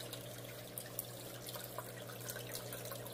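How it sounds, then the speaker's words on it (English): Aquarium tank water trickles into a small cup in a faint, close pour, with soft splashy drips over a low steady hum and no talking. "I just throw some tank water in it"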